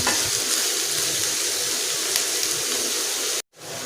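Onions sauté in a hot pan for a Tamil fish curry, a dense, even sizzle close by that runs steadily before cutting off abruptly near the end, with no speech.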